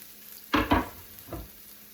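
Onion in an oversized pan for a vegetarian dish, sizzling under a steady frying hiss with two quick scraping stirs close together and a softer third a moment later, no voices.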